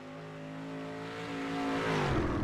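A street stock race car engine drones steadily at Oswego Speedway, its harmonic roar climbing and swelling as the car runs down the back straightaway and into turn three, loud and alone with no talk.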